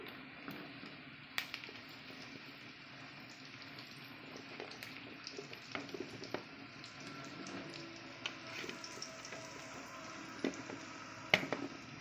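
Drumsticks frying in oil with onions in a pan, giving a low, steady sizzle broken by scattered clicks and scrapes of stirring, with no voices.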